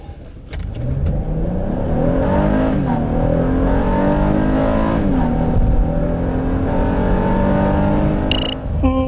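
A 2019 Honda Pilot SUV accelerating hard, its engine note loud and close as it climbs steadily in pitch through a long sustained pull, then drops away briefly near the end with a short sharp tone.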